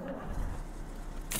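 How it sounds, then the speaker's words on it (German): A truck engine in the video game Alaskan Road Truckers cranks and catches in a dense, steady low rumble, close and unbroken for just over a second. "Motor an."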